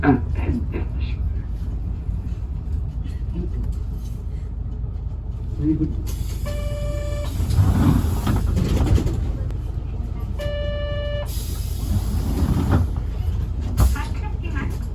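Tokyu city bus H854, running with an abnormal motor noise, drones steadily from inside the cabin, with a rising whine and automated announcements heard along the way.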